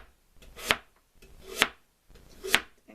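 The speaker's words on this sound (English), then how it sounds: "what I'm going to do is cut it into quarters like that" A knife chops three times through a turnip on a cutting board, cutting it into quarters. The cuts are crisp, close and evenly spaced, each with a short rasp before the blade strikes the board, and no one speaks.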